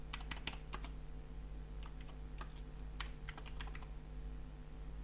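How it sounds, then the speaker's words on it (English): Text being typed on a computer keyboard in bursts of quick, light key clicks with short pauses between them, heard alone and close over a quiet background hum. "And type in some text."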